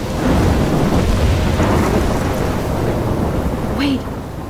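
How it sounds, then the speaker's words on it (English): Thunderstorm in the video game Life is Strange: a steady wash of heavy rain with rolling thunder rumbling throughout, loud and continuous, easing slightly near the end. "I'm trapped in a storm?"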